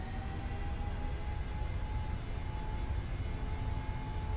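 PMDG 737 engines in a flight simulator spooling up toward takeoff thrust, a steady loud jet roar with a whining tone that holds evenly throughout.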